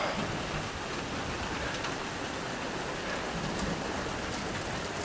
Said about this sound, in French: le tonnerre vient de péter d'un coup sec dessus du chalet.